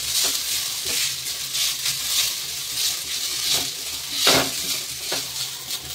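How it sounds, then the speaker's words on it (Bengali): Grated potato and chopped green chilli frying together in a pan, a steady sizzle broken by scraping stirs and clinks of a utensil against the pan, close and without talk. "এবার এই গ্রেট করে রাখা আলুটা দিয়ে দেবো। এর সাথে দিয়ে দেবো একটা কুচি করে রাখা কাঁচা লঙ্কা, দিয়ে এটা একসাথে ভেজে নেবো"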